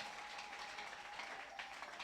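A church congregation applauds together at a Sunday service, a steady, dense wash of many hands clapping at close range with no pause.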